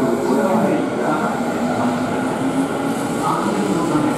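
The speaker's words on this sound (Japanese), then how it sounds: "この電車が発車します。" A Tokyu 5050 series 4000 subseries train on the F Liner limited express bound for Shinrin-koen pulls out of a station platform, producing a steady, loud rumble of running gear with station announcements playing over it throughout.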